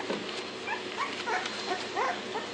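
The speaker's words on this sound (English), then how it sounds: "Puppy wars, puppy wars." Bully-breed puppies play-fight, giving repeated high whimpers, yips and small barks in quick bursts at close range over a constant noisy background.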